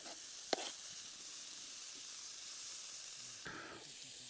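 Peppers and onions cook in a pan over a camp stove, giving a steady, soft sizzling hiss with a sharp click near the start and a brief louder burst of stirring toward the end; no talk.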